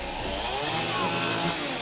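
A chainsaw used as a sound effect on a television set drones loudly and continuously, its engine note steady and close with a few shifts in pitch, and no voices over it.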